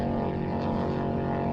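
A motorboat at a beach waterfest runs with a steady, droning engine hum that holds at an even, fairly loud level throughout.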